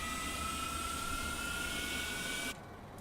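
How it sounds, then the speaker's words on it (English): Steady broadband jet-engine roar with a high whine from a Fokker 28 starting up in Microsoft Flight Simulator, loud and constant before dropping in level near the end, no talking. "Sounds like an engine starting."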